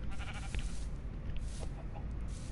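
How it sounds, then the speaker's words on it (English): A sheep bleats in a Minecraft-style video game, a few short wavering calls set against a dense, rumbling game background, with no talk over them. "Oh, hi, sheep."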